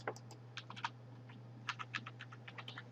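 Keys clatter on a computer keyboard as a password is typed, a quiet close sequence of light taps in two short bursts over a low steady hum.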